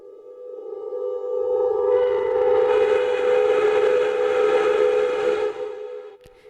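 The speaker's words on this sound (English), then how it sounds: "So if I turn this up right now, it will actually start a feedback loop" A sustained droning tone from a reverb feedback loop with distortion in Bitwig Studio swells into a thick, buzzing distorted hum with layered harmonics, holding steady before cutting off abruptly.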